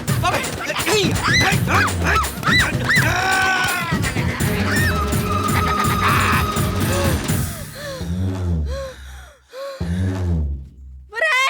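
A dog barks loudly and repeatedly in a Telugu comedy film scene from Vikramarkudu, the barks mixing with shouting voices and dramatic background sound before trailing into a few separate yelps.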